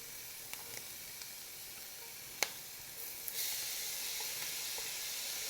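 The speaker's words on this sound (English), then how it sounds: "I am just going to go ahead and throw my onions and my garlic in here so that it can brown just ever so slightly" Chopped onions and garlic fall into a pan with hamburger meat cooking and sizzle softly. The steady faint hiss has a few small clicks and rises slightly partway through.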